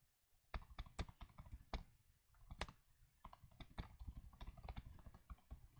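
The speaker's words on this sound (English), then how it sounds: "I'm just going to really quickly type that out" Someone types quickly on a computer keyboard during an electronics lecture, producing irregular clusters of sharp, close clacks with short pauses between bursts and no talking.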